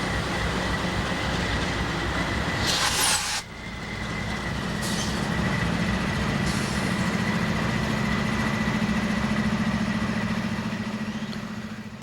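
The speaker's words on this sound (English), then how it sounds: "So it will pull up to the station, the train will go past" A train rumbles steadily past at close range, wheels droning and squealing faintly, with a brief hiss partway through.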